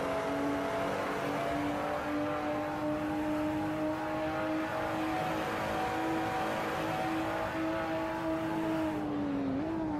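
An on-board racing car engine from a sim racing game at the Red Bull Ring holds a loud, steady high-revving whine through most of the lap segment, dipping in pitch briefly near the end.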